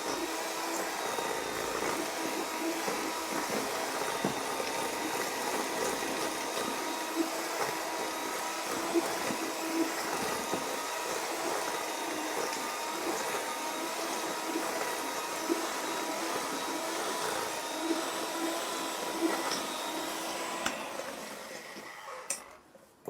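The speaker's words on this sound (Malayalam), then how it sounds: "ബട്ടറിൽ ഇട്ടിട്ട് നന്നായി ബീറ്റ് ചെയ്യണം." An electric hand mixer beats butter and sugar for a plum cake with a continuous, close motor whine that runs steadily for about twenty seconds, then cuts off, leaving near quiet.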